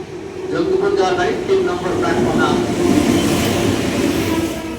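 The Jangipur Road Express arrives at platform three, a loud steady rumble of wheels and carriages close by under busy station chatter and voices.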